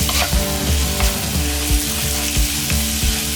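Meat sizzling in a pan with onions, garlic, ginger and a dry spice rub, a dense, loud frying hiss with faint rhythmic stirring beneath, no speech.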